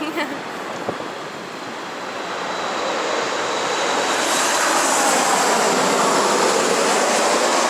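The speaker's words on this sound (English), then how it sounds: "oh, another plane is coming" An airplane passes overhead as a broad, rising roar that swells steadily and stays loud to the end, with faint voices underneath.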